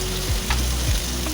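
Potatoes and gathi kochu (taro) sizzle in hot oil as they are stirred, with a steady frying hiss and a few low scraping strokes of the spoon.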